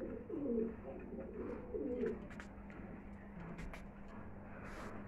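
High-flying pigeons cooing close by, two rolling coo phrases in the first two seconds, then quieter ambient noise with faint chirps.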